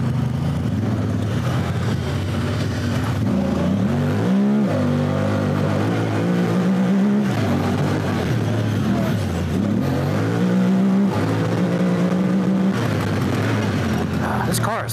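A Honda Talon 1000X UTV engine in Utah's Zion Canyon wilderness drops into a washout and powers up the other side, a loud, close mid-range roar rising and falling through repeated revs, with people talking under it.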